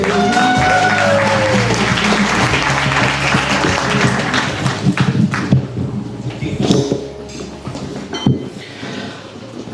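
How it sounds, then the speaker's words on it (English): Guests at a wedding reception break into loud, dense applause that gradually thins and fades toward the end, with scattered claps and some background noise as it dies down. "please give him a round of applause"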